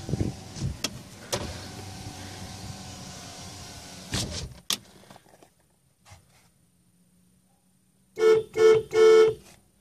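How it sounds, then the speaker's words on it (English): Power windows of a 2015 Suzuki Swift whir up in a few short motorized bursts near the end, after some earlier rustling and clunks, with no speech. "I'm gonna close the windows"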